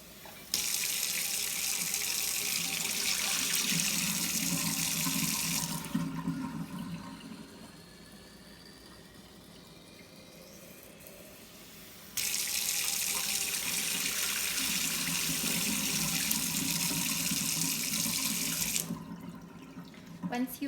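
Cool tap water runs steadily over sprouts being rinsed in a sink. The strong rushing flow stops for a few seconds, then starts again, with quieter trickling and handling sounds in the gap.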